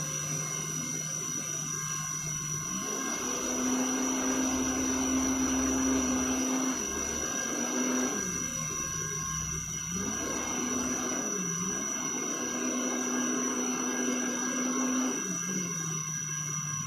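A small 12V dynamo motor spins with a steady high whine, rising and dropping in pitch several times as its speed shifts, with a faint hum beneath.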